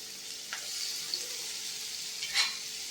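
Shallots sauté in hot sesame oil in a kadai with a steady, soft sizzle, broken now and then by faint stirring scrapes. There are no voices.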